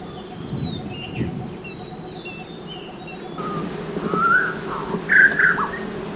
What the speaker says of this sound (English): I almost overlooked the bird.